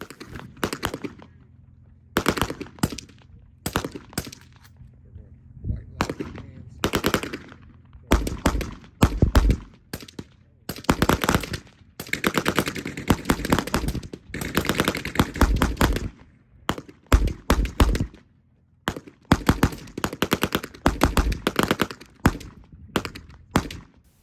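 Gunfire at a night shooting range: volleys of shots crack out in irregular bursts, some rapid strings overlapping, with short quiet gaps between, loud and fairly close.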